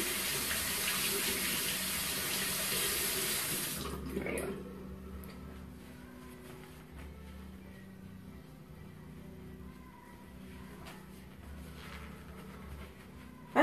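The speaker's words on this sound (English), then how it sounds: "Go ahead and rinse off my applicator." Tap water runs loudly into a sink while a makeup applicator is rinsed, a steady hiss for about four seconds before cutting off, leaving quiet room noise and faint drips.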